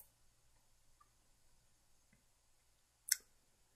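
A single sharp computer mouse click sounds near the end in an otherwise quiet room.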